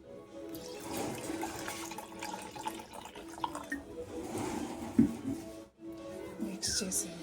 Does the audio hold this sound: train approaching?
no